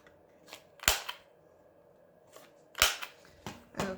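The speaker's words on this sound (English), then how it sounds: "so I'm going to round our corners." A corner rounder punch clips the corners of paper journaling cards, giving two sharp, close snaps about two seconds apart, each followed by fainter clicks and rustles of handling.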